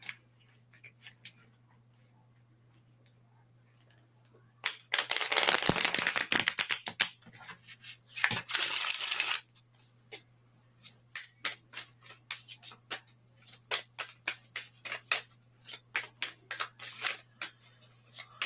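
A deck of tarot cards is shuffled by hand: two long, loud riffling bursts, followed by a run of quick, crisp taps and flicks as the cards are squared and cut, close and alone.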